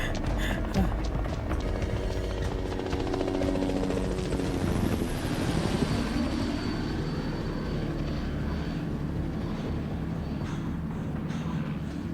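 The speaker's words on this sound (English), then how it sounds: "Helicopter." A helicopter's rotor thumps steadily nearby, loud and continuous, its pitch shifting slightly as it passes overhead.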